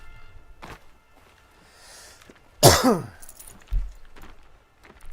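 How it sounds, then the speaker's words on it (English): A streamer coughs once, loud and close to a microphone, after choking on something; a short harsh burst stands out over a quiet room, followed by a faint thump. "I choke on something, and then I'm coughing for the rest of the stream."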